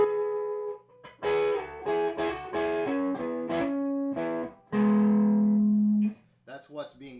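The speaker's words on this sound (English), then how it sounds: "there is a dual lead part harmony that both parts together would sound like this" Two harmonised lead guitar lines from a song play together with clean sustained notes and sliding pitch bends, ending on one long held note, followed by a brief burst of voice.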